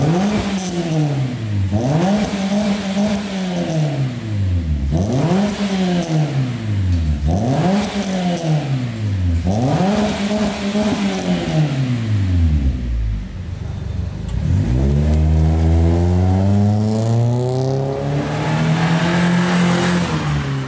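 A Toyota Vios with an enlarged exhaust resonator revs hard in repeated rising blips, then settles into a long sustained climb. The exhaust tone is loud and close, with a throaty drone and no talking over it.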